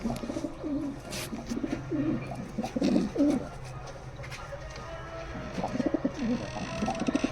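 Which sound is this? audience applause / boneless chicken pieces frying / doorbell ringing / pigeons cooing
pigeons cooing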